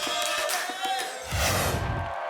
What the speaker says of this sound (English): And the military crowd on hand, enjoying getting pumped.